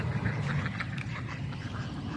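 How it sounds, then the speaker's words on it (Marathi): Low, muffled quacking from a group of ducks and geese on a farm, fairly steady and somewhat distant, with no talk. "हंस बदक पण आहे मोठीवाली"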